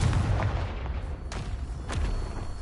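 Confringo blasting spell cast in the Hogwarts Legacy video game: a continuous low rumbling with several sharp, explosive cracks and booms spread across the clip, loud and close.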